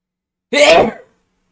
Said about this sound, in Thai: แป๊บนึง จะจาม